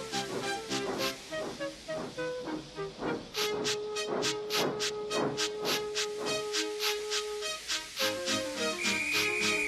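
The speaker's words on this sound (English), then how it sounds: "Gordon, with much noise and blowing of steam, got ready to back onto the train." Steam hisses and chuffs in rhythmic bursts from a steam engine, with a long sustained whistle-like tone joining midway, loud and close throughout.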